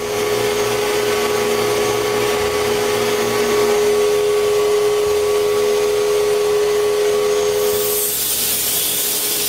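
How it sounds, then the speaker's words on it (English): A power sander works oak surfaces of a wooden tack box with 120 grit sandpaper, giving a steady, close, whirring hiss that runs unbroken and alone, changing tone near the end. "I need to sand all the surfaces with a 120 grit sandpaper"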